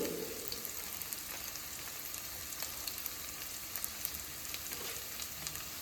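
Onions frying with salt in a pan for an office lunch-box curry give a steady, close sizzle with faint crackles and small pops throughout, no voices.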